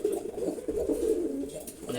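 Soft, continuous cooing from a pair of young khaki pigeons, male and female, close by, with rolling coos running through the whole short stretch and no voices.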